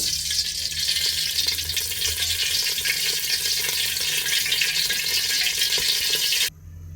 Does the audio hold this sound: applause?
no